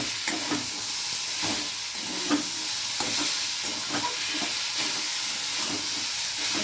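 Tender banana flower (thor) sautéing in a pan with spices for a Bengali thor ghonto, a steady close sizzle and hiss with rhythmic scrapes of stirring, no voices.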